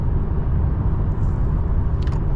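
Steady low engine rumble inside a 2024 Honda Accord Hybrid, with a sporty engine sound piped into the cabin while driving; the drone holds even and fairly loud throughout.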